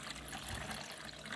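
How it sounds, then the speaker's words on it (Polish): A washing machine draws in water with a steady, faint hiss and trickle of liquid running continuously without pause. "Pralka już sobie wlewa."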